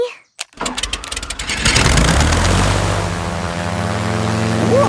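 A small toy aeroplane motor starts up with a few clicks, then whines loudly and steadily close by, its pitch shifting slightly as it keeps running, in a Peppa Pig cartoon.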